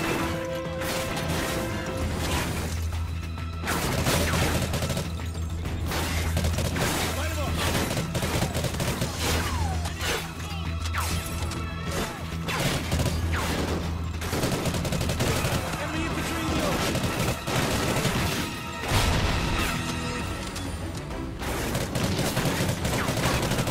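Steady bursts of rapid automatic gunfire from a weapon in Call of Duty: Ghosts, loud and nearly continuous with dense overlapping shots and crashes throughout a single-player battle.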